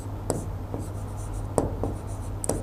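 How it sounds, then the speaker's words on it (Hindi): A pen scratches out an answer on paper in a few short, distinct strokes and taps, close and fairly crisp against a quiet room. "इसका अब आंसर लिखते हैं"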